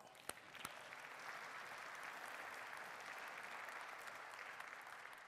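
A church congregation claps in sustained, even applause, fairly faint and distant, after a couple of sharp early claps.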